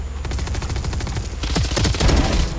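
Rapid automatic gunfire from the game Valorant rattles in dense bursts throughout, growing louder and sharper near the end, with no voices.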